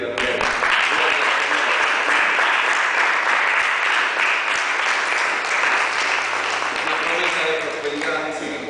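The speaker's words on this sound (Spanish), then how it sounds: "¿Cuántos pueden aplaudirle a Dios?" A church congregation bursts into sustained, enthusiastic applause, a dense wash of clapping and cheering that fills the room for several seconds, with a few voices calling out over it.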